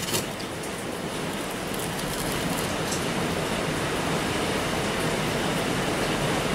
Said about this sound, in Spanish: el murmullo que se oye es el agua en el tejado, que es de chapa